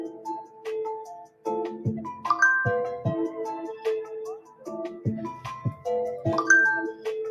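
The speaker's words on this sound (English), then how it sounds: "that's my phone was off the entire morning, so then I turned it on, and then the messages come through" A phone powered on after a morning switched off plays a run of message notification tones, several short melodic chimes and dings tumbling over one another in quick succession, fairly close and clear with no talking.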